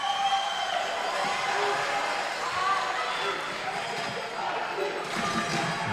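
Spectators at a World Tchoukball Championships men's bronze medal match between Singapore and Switzerland cheer and clap in a sustained, mid-distance crowd murmur, with ball bounces and court sounds mixed in.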